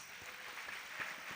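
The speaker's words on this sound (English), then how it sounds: "Can we have a round of applause?" A short burst of audience clapping at a regional quiz final, a fairly faint, even patter of many hands lasting barely over a second.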